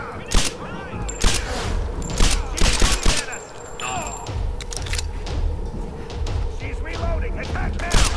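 Gunfire during combat in the 2013 Tomb Raider video game, with rapid bursts of shots and impacts mixed with game effects and music, while a player talks over the action.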